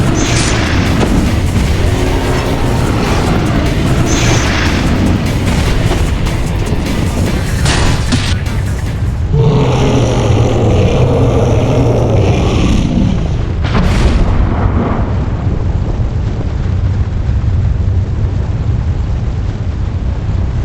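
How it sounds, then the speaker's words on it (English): A lava dragon in the video game Ninja Gaiden Sigma breathes fire, a loud roaring whoosh with booming rumbles, set within dense, continuous game noise. "be careful of this dragon breathing fire"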